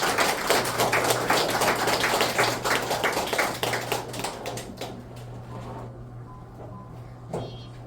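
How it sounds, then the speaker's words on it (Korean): Audience applause at a lecture for the founding assembly of a Korean republican association, a dense burst of clapping that thins out and fades over several seconds, with no talk. "박수 부탁드립니다"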